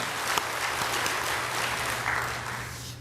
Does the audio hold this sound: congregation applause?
yes